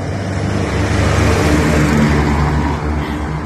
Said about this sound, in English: It's a busy traffic day.